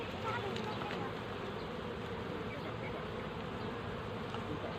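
A dense, steady drone of honeybees buzzing at a hive entrance during a bee pollen harvest, a close and continuous swarm hum that holds level throughout without pauses.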